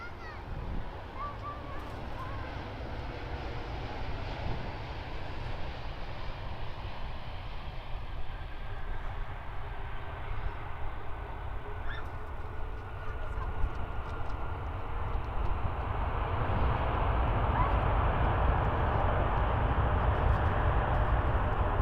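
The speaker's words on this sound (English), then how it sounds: "let's have a listen to this. 787-8 in from Singapore." A Boeing 787-8 airliner arriving from Singapore at Perth Airport makes a steady, broad jet engine roar that builds gradually in loudness over about twenty seconds, with a faint voice in the background.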